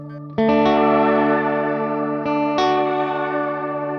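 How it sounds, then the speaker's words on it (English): Electric guitar chords through a Strymon Nightsky reverb pedal set fully wet, notes blooming and sustaining into a thick ambient wash, with a second strum midway. "Or make it all reverb."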